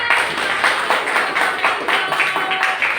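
Students in a classroom clap for a group that has just finished presenting, loud and close, with brisk overlapping handclaps in a loosely rhythmic burst lasting a few seconds.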